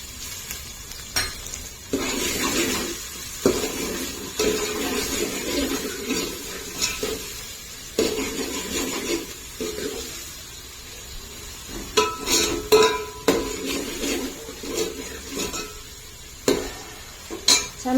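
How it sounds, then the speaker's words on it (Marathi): Chopped onions dropped into hot oil in a pan sizzle and fry steadily, with stirring clatter and occasional scrapes of a spoon against the pan, close by and continuous with no voices. "तेल गरम झालंय छान कांदा घालते भरपूर असा कांदा घालायचा"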